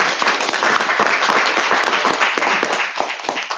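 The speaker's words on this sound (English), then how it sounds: "Favorite round of applause." A round of clapping at a school council general meeting, as a small-to-medium group applauds steadily for several seconds with individual claps audible in a dense, even patter.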